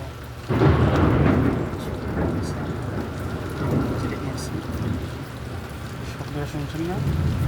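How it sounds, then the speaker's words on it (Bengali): Steady rain falls in Jeddah with a broad rushing hiss and low rumbling like distant thunder, continuous and fairly loud, with a voice speaking over it. "এখন বৃষ্টি কিছুক্ষণ কমছে"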